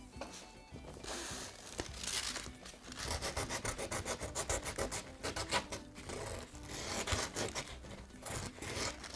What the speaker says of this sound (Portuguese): E eu posso tirar essas rebarbas passando o hashi numa lixa.